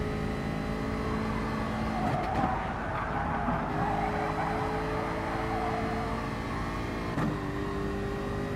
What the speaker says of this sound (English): Overcooked it very slightly, you can hear the tyres scrubbing.